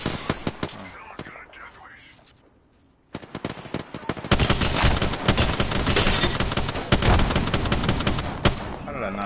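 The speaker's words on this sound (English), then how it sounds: "I think that's them shooting in the distance" Sustained rapid gunfire rattling away in a video game, quieter sporadic shots at first, a short lull, then dense continuous automatic fire for several seconds; some voices murmur underneath.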